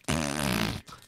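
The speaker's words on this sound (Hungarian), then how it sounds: "Hihetetlen fingó effekteket kell berakni egyébként" A comic fart sound effect for a Minecraft roleplay server, one loud, buzzy, near blast of under a second, then a short weaker sputter at the end.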